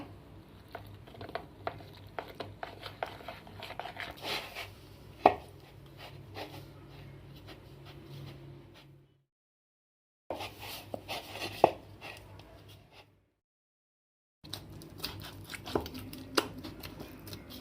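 Paratha dough being kneaded by hand with oil and a little sugar, giving soft squishy slaps and pats in irregular bursts, with two brief silent gaps.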